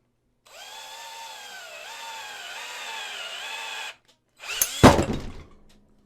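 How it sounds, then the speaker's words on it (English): A small power drill bit whines steadily into a resin model kit while pinning parts, running for about three and a half seconds. After a short pause comes a sharp, louder burst of grinding and clatter. "the smaller drill bits just really are a guide for the bigger ones"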